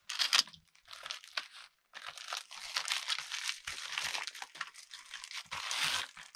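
Plastic packaging crinkles and tears in bursts of rustling as a parcel bag is opened up close, with a brief pause partway through.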